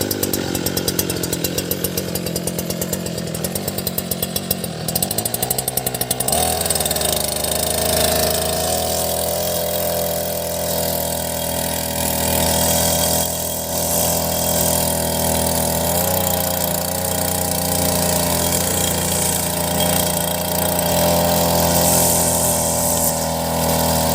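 The small engine of a homemade multipurpose agricultural machine is started with a hand key. It catches after a few seconds and then runs at a steady, loud, buzzing idle with a constant drone, and no one talks.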